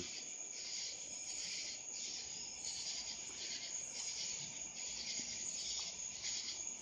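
Crickets chirp outdoors on a cool evening among potted orchids, a continuous high pulsing trill that holds steady and moderately close throughout.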